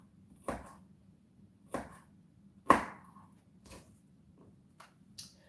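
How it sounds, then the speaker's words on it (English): A knife chops food on a cutting board during lunch meal prep, five or six sparse, crisp taps spaced about a second apart, close and fairly quiet with a faint steady hum underneath and no talking. "I'm over here chopping to the side"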